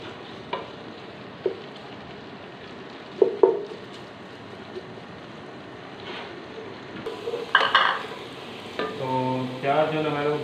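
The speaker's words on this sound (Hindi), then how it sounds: "प्याज को हम करेंगे अच्छे से ब्राउन" Onions frying in a pan until brown give off a low sizzle, and several loud stirring clatters and scrapes break through it at intervals.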